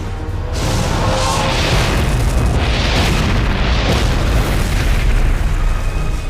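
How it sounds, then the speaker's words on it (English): A dirt explosion special effect on the Stargate Atlantis set sends out a loud, sustained roaring boom of blasting earth that keeps rumbling and rushing for several seconds, with no voices. "It's a dirt explosion that time as it's going off"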